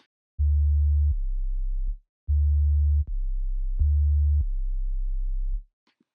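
A trap 808 bass switches between two low sustained notes with a quick pitch glide at each change. It plays three long, booming phrases separated by short silences, clean and loud with nothing else heard.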